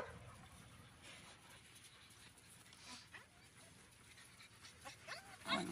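Puppies pant and whimper faintly as a soft breathy rasp with a few thin whines, close but quiet, louder and sharper toward the end.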